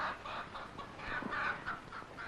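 A chicken clucks in a steady run of short, mid-pitched calls at moderate distance, with no talk over it.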